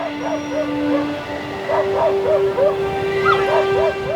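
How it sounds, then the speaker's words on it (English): Several dogs barking and yipping in the distance on a remote Arctic island, short bursts in uneven clusters over a steady background drone. "he heard the distant sounds of dogs barking."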